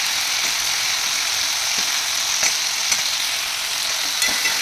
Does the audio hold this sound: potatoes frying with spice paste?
yes